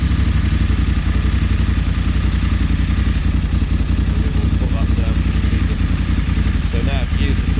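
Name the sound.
BMW F850GS motorcycle engine starting and idling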